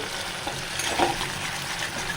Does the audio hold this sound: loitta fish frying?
yes